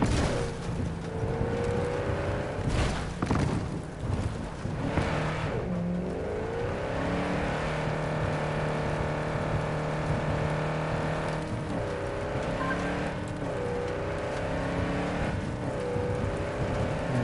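A hypercar in Cyberpunk 2077 drives off-road, its engine droning loudly and continuously with rising and falling revs, rumbling tire and terrain noise underneath, close and without voices.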